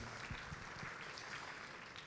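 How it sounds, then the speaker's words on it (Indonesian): A church congregation gives faint, distant applause, a soft continuous patter with a few low thumps near the start. "Kasih tepuk tangan dong buat mereka semua sama-sama."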